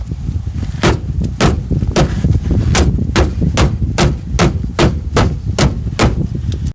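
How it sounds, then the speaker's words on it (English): A rubber mallet strikes the underside of a Hyundai Santa Fe's fuel tank in a steady series of about a dozen sharp, loud knocks roughly every half second, close by and with no talk. "go underneath the car with a rubber mallet, start giving the fuel tank a few hits"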